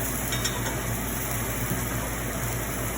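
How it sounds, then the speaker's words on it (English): Scallops searing in a hot cast iron pan give a steady, even sizzle that holds at a constant level for the whole stretch, with no voices over it. "I'm just going to sear the scallops on this"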